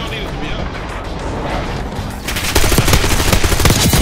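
LMG fire in Black Ops 6 gameplay: after a stretch of noisy background, rapid, loud automatic bursts start midway and keep hammering to the end, with talk underneath.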